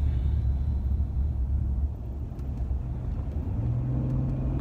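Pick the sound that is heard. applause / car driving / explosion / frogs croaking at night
car driving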